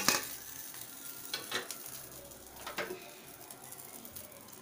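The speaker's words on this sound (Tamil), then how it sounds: "இப்போ தோசை வெந்துருச்சு, திருப்பி போட்டுக்கலாம்." Masala dosa cooks quietly on a hot pan, a faint continuous sizzle broken by a few soft scraping and flipping sounds.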